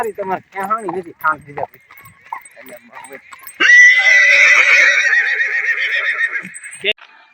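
A mare back home after a ride gives a long, loud whinny lasting about three seconds and ending in a short snort. Close-up speech comes before it.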